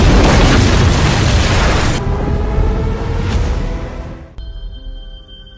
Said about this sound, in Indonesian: tiba-tiba toko bunga itu meledak